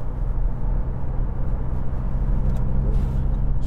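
A 2010 SEAT Altea 1.9 TDI S Emocion diesel hatchback drives along under light throttle, its steady low engine drone and road rumble heard from inside the cabin, continuous and fairly loud with no one speaking.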